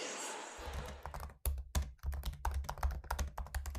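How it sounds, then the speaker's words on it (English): Rapid keystrokes on a computer keyboard inside a bookstore in Lakeview, Chicago, clattering in a close, uneven rhythm after a brief stretch of room noise at the start. "Malcolm Newsom is typing away inside of 3 Avenues bookstore in Lakeview"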